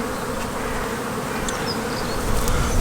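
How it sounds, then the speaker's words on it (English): Honey bees humming around an open national brood box hive, a dense continuous buzz close by with occasional individual bees flying past. "So the bees are now coming up onto here"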